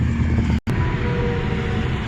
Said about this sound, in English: Sorry for the noise, I'm close to the highway.